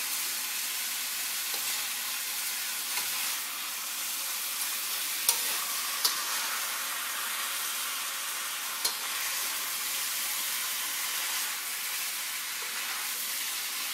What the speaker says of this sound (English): you got to kind of stir it a bit